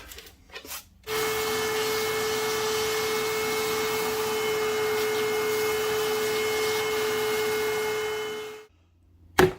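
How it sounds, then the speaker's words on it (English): A vacuum cleaner switches on in a workshop to clean up around a mini milling machine, drones with a steady high-pitched whine for several seconds, then shuts off. "Now I'm going to go ahead and vacuum all this up."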